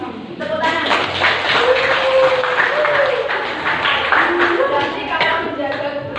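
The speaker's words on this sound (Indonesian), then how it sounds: "Tepuk tangan." Students in a classroom clap together, a steady patter of many hands lasting several seconds, with chatter and voices mixed in.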